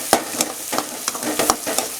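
A spoon stirs chilli powder and turmeric through a frying pan for a Tamil vathal kuzhambu, giving a series of sharp, evenly spaced scraping strokes over a soft background sizzle, close and moderately loud.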